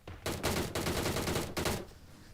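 Gunfire in the mobile battle royale game PUBG: New State: two quick loud bursts of automatic shots, close and punchy, with no talk over them.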